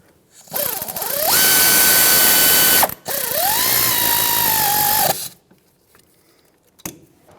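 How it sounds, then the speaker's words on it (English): A tool tightens the wheel hub bolts on a 2014–2021 Mazda 6 during a rear wheel bearing and hub replacement. Two loud, close, sustained mechanical whirring runs of about two seconds each are separated by a brief pause, then it goes quiet. "and let's tighten it up"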